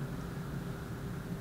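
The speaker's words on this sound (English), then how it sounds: "so I've got the AC running, so if you hear that in the background," A home air conditioner runs steadily in the background during hot weather, a faint, even hum and whoosh that holds at a constant level without breaks.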